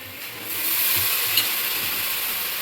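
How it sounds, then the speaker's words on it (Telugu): Chunks of brinjal tipped into a hot pan, sizzling and frying with a steady crackle as they are stirred, close up and fairly loud. "వంకాయ ముక్కలన్నీ వేస్తాను."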